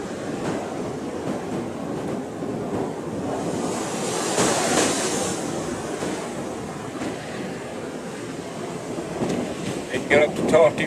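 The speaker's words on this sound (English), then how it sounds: "Waves about 10 feet tall" Ocean waves about ten feet tall break on the Irish coast at Spanish Point, a continuous broad roar of surf mixed with wind buffeting the microphone, swelling at times, with no voices.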